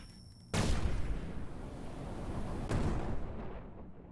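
A video game weapon fires with a sudden heavy boom, followed by a rumbling explosion that sustains, then a second blast about two seconds later before the roar fades out.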